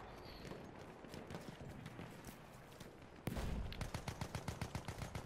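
Battlefield 1 gunfire starts as a dense battlefield rattle, then a loud close burst opens a rapid, rhythmic stream of automatic shots that continues to the end.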